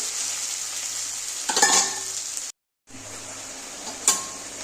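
Mixed vegetables sautéing in a pan for a Bengali small-fish curry with potatoes and borboti beans, a constant close sizzle broken by a couple of stirring scrapes and clinks, cut by a brief silent gap.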